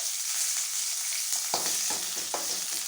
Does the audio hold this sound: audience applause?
no